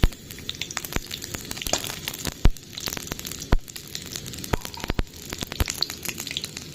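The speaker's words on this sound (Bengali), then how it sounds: "বেগুনগুলো একটু ভালো করে ভেজে তুলে নেব" Pieces of young home-grown eggplant frying in a pan: a continuous crackling sizzle broken by scattered clatters and a few louder knocks of a utensil against the pan.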